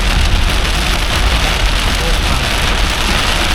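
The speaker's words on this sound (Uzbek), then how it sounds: "Qattiq bo'lyapti yomg'ir." Heavy rain pounds a moving car on a Galveston, Texas road, a loud unbroken hiss and drumming over low engine and tyre rumble, close and steady throughout.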